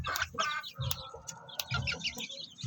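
Several backyard-raised chickens cluck and cackle nearby in short, choppy calls, with a few sharp higher squawks mixed in.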